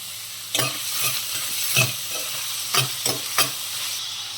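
Onions and chillies fry in oil in a pan, a steady close sizzle under a handful of spatula scrapes and knocks spaced through the stirring, with no talk.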